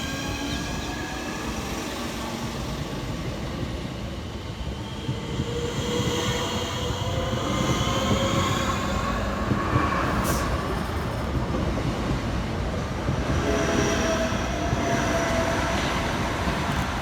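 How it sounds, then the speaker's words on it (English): Southeastern Class 465 electric multiple units pull away from Shortlands station in the UK, a steady loud rumble of wheels and traction motors rising and sustained throughout with no talk. "Next train out to depart is 465040 and 465179 with the 1609 Southeastern service from London Victoria through to Orpington."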